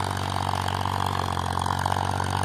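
A Powertrac Euro 439 tractor engine idling with an 11-tine cultivator attached, a steady, loud diesel chug with an even rhythmic throb, continuous and close, with no talk.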